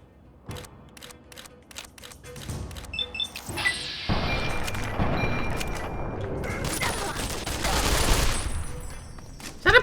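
Browning Automatic Rifle firing in the video game Fallout, a series of sharp, separate gunshot cracks followed by a heavy, sustained burst of fire with loud booming impacts.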